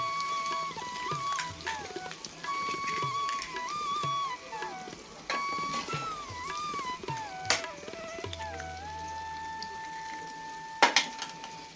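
A spoon stirring eggs into chicken curry in a pan, with scraping and clinking of utensil on metal, occasional sharper knocks, and faint sizzling under a background tone.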